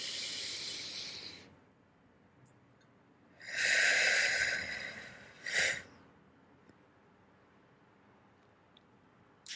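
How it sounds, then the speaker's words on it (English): A deep breath taken slowly: a soft breathy inhale early, then a louder, longer airy breath in the middle followed by a short sharp puff, with near silence between them. "take a deep breath with me"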